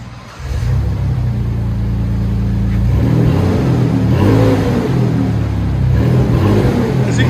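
A Ford Ranger 3.0L V6 revs through a straight-pipe exhaust that still runs through its converters, a loud deep rumble that climbs and falls across several throttle blips, close to the tailpipe.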